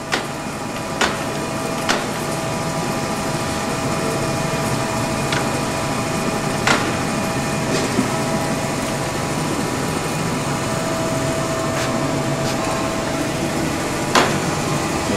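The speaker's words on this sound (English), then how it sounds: "you want to show the power elevation for the table" A Gould & Eberhardt Model 14 Plain Tool Room horizontal shaper runs its table power elevation, giving a steady, fairly loud mechanical hum with faint tonal whine and occasional sharp clicks, with no talking.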